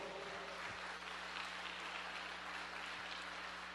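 Church congregation applauding the Lord during a sermon, a steady wash of clapping over a constant low hum, moderately distant and even throughout.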